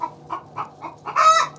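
A few soft, evenly spaced clucks from a hen, ending in a louder, sustained squawk; nearby and clear.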